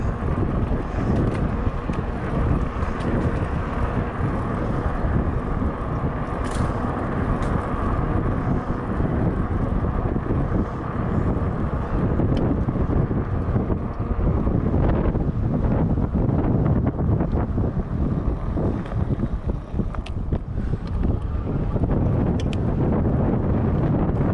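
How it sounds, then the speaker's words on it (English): A strong crosswind roars and buffets against the microphone without letup, a dense, loud rumble lasting the whole stretch with no voices. "now we've got quite a bit of a crosswind"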